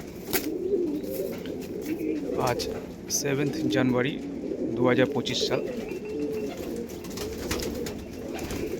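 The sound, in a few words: pair of pigeons cooing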